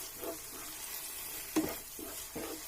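Aubergine masala gravy fries in oil with a low steady sizzle, broken by a few soft scraping stirs of a spoon against the pan, close and without talking.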